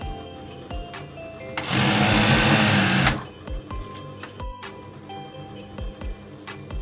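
A sewing machine stitches a torn bed cover, ticking in steady rhythmic pulses with one loud continuous burst of fast stitching in the middle, close and clear.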